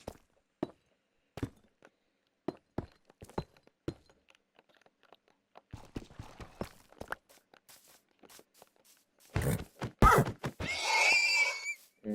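A horse neighs loudly near the end in Minecraft, a rough drawn-out whinny, after sparse clicking footsteps and small crunching sounds scattered through near-silence.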